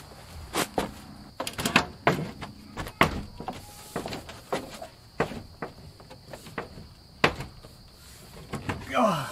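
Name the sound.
door being fitted into its frame during installation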